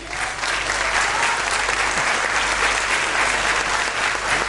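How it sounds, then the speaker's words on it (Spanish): Steady applause from a large audience at an education conference, dense clapping that holds at an even loudness throughout, with no talking over it. "Le brindamos nuevamente un cálido aplauso a Jorge Lazzarini."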